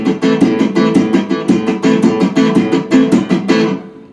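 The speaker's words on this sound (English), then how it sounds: "I can go hit the open strings and actually go like this" A guitar played percussively by striking the open strings in a triplet feel, loud and close, a rapid even run of ringing hits that stops abruptly near the end, with no voices.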